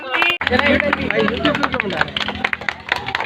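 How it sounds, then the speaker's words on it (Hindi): A crowd claps together at a celebration with a cake ceremony for a car that has travelled 1 lakh km, a quick run of close claps mixed with lively voices and chatter. "आप सब ताली बजाकर इसमें शामिल होंगे"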